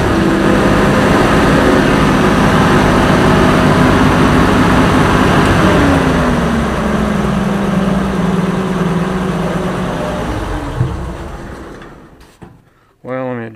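An Oliver 525 tractor engine, freshly fitted with a rebuilt governor, runs steadily and loudly with a low, droning tone, then fades and cuts toward the end, leaving brief bursts of noise.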